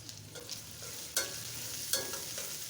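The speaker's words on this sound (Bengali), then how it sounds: "পেঁয়াজটাকে ভেজে নেব।" Chopped onion and garlic being fried in a pan, a quiet sizzle broken by two louder scraping stirs of a spatula, heard up close without voices.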